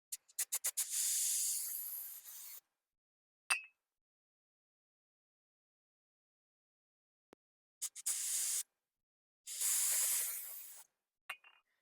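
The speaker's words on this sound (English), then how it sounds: "I'm gonna try to clean this area inside where it goes in and out with a carburetor cleaner" Carburetor cleaner sprays into the inside of a stuck starter solenoid in several hissing bursts: a quick cluster of short puffs, two long sprays, then more long and short blasts after a pause, with no talk.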